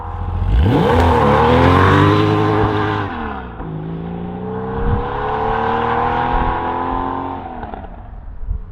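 A Porsche 911 993 coupe with a 3.6 litre engine and Variovam intake accelerates hard, its note climbing through the revs, dropping at a gear change and then rising again, loud and close with no talk.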